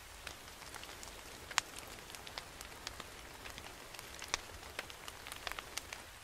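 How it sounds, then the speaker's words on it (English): Rain in the Brookhaven Roblox game falls in a soft, continuous patter, quiet and even, dotted with sharper individual drop ticks and no voices. "I was hiking alone and got caught in the rain."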